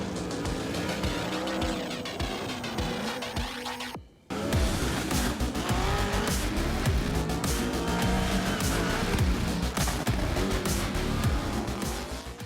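Drift cars at a D1GP Southeast Asia competition in a parking lot in Tangerang, Banten: loud, continuous engine roar with tires squealing and skidding throughout, a brief near-silent break, then the screeching resumes without letup.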